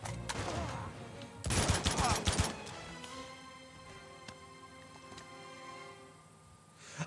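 Bursts of gunfire in Uncharted 2 action gameplay, a dense volley of rapid shots early on followed by a quieter stretch of scattered pops and lingering game ambience.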